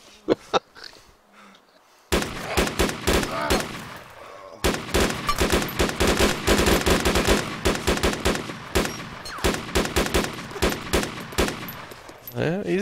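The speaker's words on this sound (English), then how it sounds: "You shoot him?" Gunshots in DayZ, in the town of Elektro: a few isolated cracks, then long, loud, rapid bursts of automatic fire with short gaps, close and dominating, with no voices.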